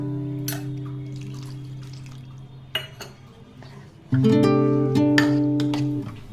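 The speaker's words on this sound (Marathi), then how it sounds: "आता आपल्याला यामध्ये याच वाटीने पाणी घालून बॅटर छान बनवून घ्यायचं आहे" Water is poured from a small bowl into rava idli batter, with soft splashing, drips and light clinks of the bowl against the vessel. A steady hum runs underneath and no one speaks.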